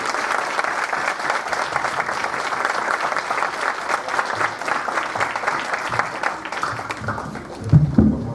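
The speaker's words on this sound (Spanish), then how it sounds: "les pido que den y recibamos un aplauso a nuestros invitados esta tarde" A seated audience at a debate panel breaks into sustained applause for the guests, dense clapping at a steady level that tapers off near the end as a voice begins.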